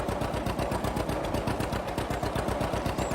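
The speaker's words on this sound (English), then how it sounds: "This makes a good little yard tractor," A small yard tractor engine runs in a farming video game, a loud, steady, rapid chugging that stays close and continuous throughout, with no talk.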